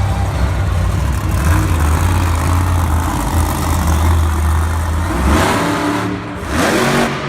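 Monster truck engine at a Monster Jam stadium show in Raleigh, 2018, holding a loud, deep sustained roar for several seconds, then dropping off and surging again in two short rev bursts near the end.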